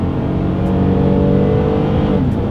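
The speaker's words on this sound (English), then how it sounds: "let's see how quickly we can get our new 2022 Highlander here up to speed" A 2022 Toyota Highlander pulling away from a standstill, its engine building into a loud, steady drone that carries through the whole moment with no talking.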